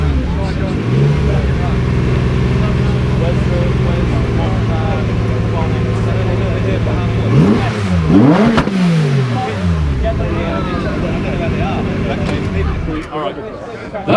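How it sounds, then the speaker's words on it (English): A classic Mini engine at a British car show revs hard toward 9000 rpm, climbing and sweeping sharply, then settles back to a steady loud drone, with voices nearby. "now I'll give you an idea of how far that is revving up"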